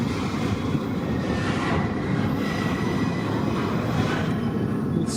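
A long, slow freight train rolls past in a steady, loud broadband rumble that holds evenly throughout, with no voices.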